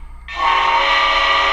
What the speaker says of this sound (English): you hear the whistle